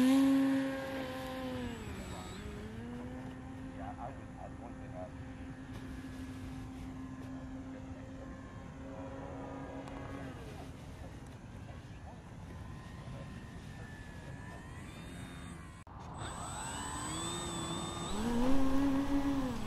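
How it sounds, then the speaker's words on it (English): A Skynetic Bison XT STOL model airplane lands, its electric motor whining in sustained tones that dip and rise as it comes in and touches down, with a burst of throttle near the end over steady background noise. "It's a reasonably smooth STOL landing"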